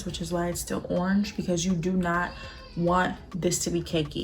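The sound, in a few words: cat meowing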